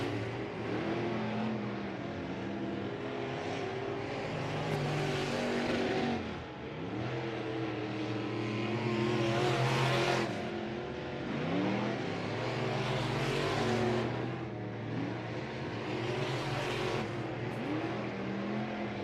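IMCA Sport Modified race cars at Southern Oregon Speedway running qualifying laps, engines roaring loud and steady with rising and falling revs as cars sweep past, several surges in a row without any talk.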